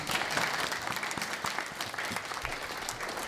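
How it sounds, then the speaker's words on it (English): A dense, sustained round of applause from a seated audience fills the room, steady and fairly loud throughout with no voices on top. "You want to applaud? Go right ahead."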